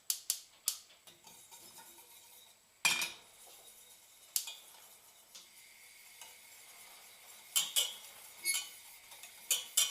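A whisk clinks and scrapes against a saucepan as a cream mixture heats over a low flame, giving scattered light metallic taps and a faint, steady rasp, fairly quiet and close, with no voices.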